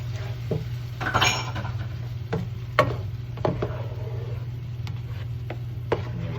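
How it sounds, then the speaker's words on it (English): Hot tomatoes stirred in a pan on the stove, with a utensil scraping and clinking against the metal over a steady low sizzle and hum. The taps are scattered and fairly faint, and no one speaks. "we're going to stir this around to get our tomatoes nice and hot"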